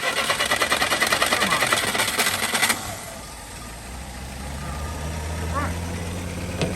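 An early Jeep CJ5 with an intermittent point ignition fault cranks in a fast rhythmic chug for a few seconds, then catches and settles into a steady, close idle; someone speaks briefly.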